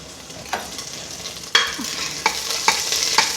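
Chopped garlic, ginger and slit green chilli fry in ghee and oil, a soft sizzle that builds, with several sharp spoon scrapes and taps against the pan, close by with no talking.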